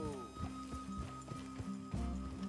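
Horse hooves clop in Red Dead Redemption 2, several quick uneven hoofbeats close by under a steady tonal hum, with what may be speech-like sound mixed in.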